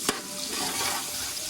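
Onion frying in hot oil, a close, steady sizzle with a sharp clink of a utensil at the start and stirring scrapes throughout, no voices.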